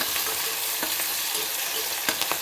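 Garlic and two chopped tomatoes fry in a pan, making a loud, continuous sizzle right up close, with several sharp scraping clicks of a spoon stirring against the metal.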